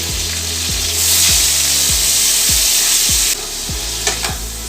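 Chopped onion sizzles loudly and steadily in hot oil with whole spices in a kadai, frying to light brown, with a spatula scraping and stirring in a regular rhythm about twice a second.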